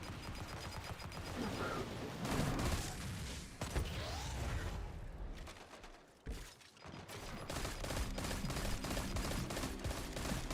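Pulse rifle gunfire in the shooter game Destiny 2, dense bursts of rapid shots layered with mechanical clatter and game effects, steady and loud almost throughout.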